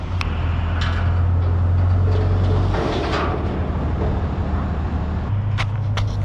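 A hotshot pickup truck reverses a trailer with a constant low engine drone and rumble throughout, close and steady, with a few faint clicks above it.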